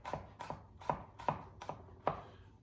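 A knife chops garlic cloves on a cutting board, six crisp taps spaced about a half second apart, close and fairly quiet, with no talking.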